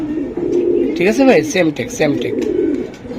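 Racing pigeons offered for sale coo nearby in a low, wavering throaty warble, while someone talks briefly over the birds.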